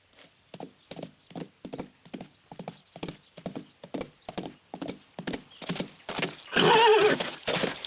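Horses riding off, steady rhythmic clip-clop of hooves in a regular gallop pattern, growing busier and louder toward the end as a horse whinnies.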